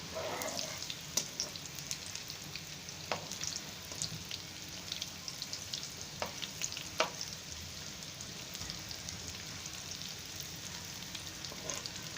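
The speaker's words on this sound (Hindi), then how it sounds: "अब हम इसमें अपनी ये चिकन लॉलीपॉप डाल देंगे और इसको डीप फ्राई करना है।" Chicken lollipops deep frying in hot oil on a medium flame, a steady dense sizzle and crackle with scattered sharper pops, continuous and fairly close throughout, with no talking.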